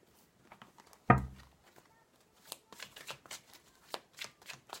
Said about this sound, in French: Je vais faire une petite coupe.